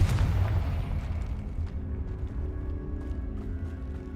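Explosion from the Confringo spell in Hogwarts Legacy: a booming blast at the start that rumbles and fades over several seconds into a low lingering tail.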